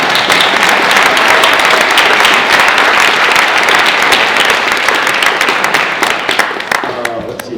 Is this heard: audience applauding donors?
yes